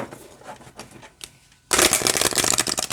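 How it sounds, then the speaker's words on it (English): An oracle card deck is handled quietly with soft taps and light rustles, then riffle-shuffled in a loud, dense, continuous fluttering burst that lasts over a second. "let's see how it shuffles."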